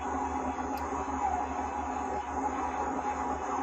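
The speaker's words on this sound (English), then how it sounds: "here is a sound of an actual black hole" A black hole's X-ray data rendered as audible sound comes through as a dark, steady, droning hum with a noisy, breathy wash, faint and unbroken throughout.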